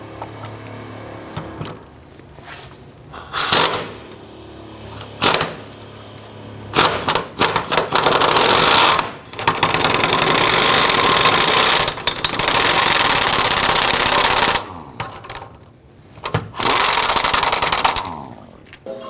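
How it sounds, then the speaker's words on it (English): Loosening a 15mm bolt on the rear upper control arm of a 1999-2004 Jeep Grand Cherokee, heard as loud bursts of rapid rattling hammering like an impact wrench, several runs of a few seconds each with short pauses between. "Now on our upper control arm, loosen and remove the 15mm bolt."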